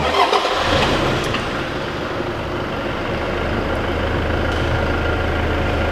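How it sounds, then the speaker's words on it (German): A 2023 Toyota Hilux 2.8 diesel pickup engine cranks and catches, then settles into a loud, steady low rumbling idle that continues throughout. "Starte mal gerade den Motor"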